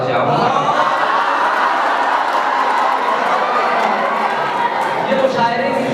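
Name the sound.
audience applause and cries of wah at a poetry recital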